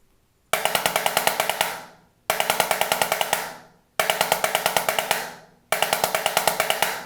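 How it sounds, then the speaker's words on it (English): A snare drum plays four 11-stroke roll rudiments, each a quick, even burst of strokes ending sharply, separated by short silences, loud and close. "We are going to focus on the 11-stroke roll today."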